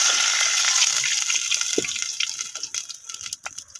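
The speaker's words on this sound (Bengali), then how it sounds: "তো লাল হয়ে গেছে, পানি দিয়ে দিতেছি।" Water gushes into a cooking pan of browned onions for a radish curry, a loud steady pour that thins into sputtering, bubbling splashes as it tails off.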